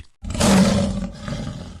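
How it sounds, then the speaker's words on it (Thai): A tiger lets out a single loud, close, rumbling roar that starts abruptly after a brief silence and fades slightly as it trails off. "มันคำรามก้องเป็นสัญญาณสุดท้าย"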